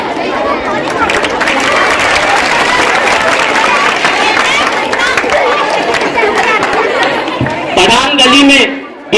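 Audience clapping at a school annual function, a dense, sustained crowd applause with a loud announcer talking over it throughout.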